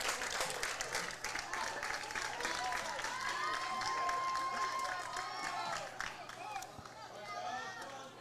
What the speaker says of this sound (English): Gotta love the sound of the crowd coming off that bat.